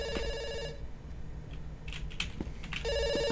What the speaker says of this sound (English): It's ringing. Don't worry.